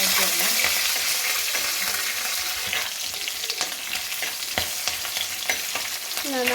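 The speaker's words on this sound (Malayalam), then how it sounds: "നമുക്കിനി പച്ചമുളക് ഇട്ട് കൊടുക്കാം" Green chillies and ginger frying in a pan, a steady loud sizzle with occasional crackles and stirring scrapes throughout, no talking.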